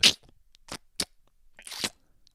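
A pet licking itself: wet mouth noises, a few short smacking, crunchy licks spaced irregularly, close and fairly quiet.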